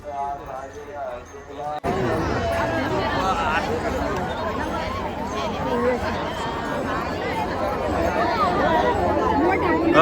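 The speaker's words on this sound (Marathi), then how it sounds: "गर्दीच गर्दी इथं जबरदस्त." Dense crowd at the Pandharpur Vaari pilgrimage in 2024, a continuous loud babble of many voices and footsteps filling the air after a brief quieter opening, with talk mixed throughout.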